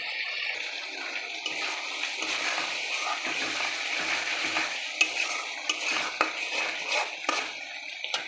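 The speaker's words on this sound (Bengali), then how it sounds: "এখন আমি এই পর্যায়ে শিমের বিচি ঢেলে দিচ্ছি। এটা দিয়ে আমি বেশ কিছুক্ষণ নাড়াচাড়া করব," Bean seeds are stirred in a sizzling pan of frying spices for a boal fish curry, with continuous scraping and hissing broken by occasional sharp clinks of the spoon, close and moderately loud, with no talking.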